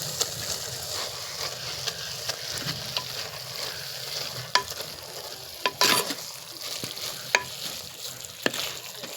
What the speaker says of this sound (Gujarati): ખાંડેલું મરચું છે, લસણ સાથે નાખી દેવી અને થોડું હલાવી પણ નાખવી.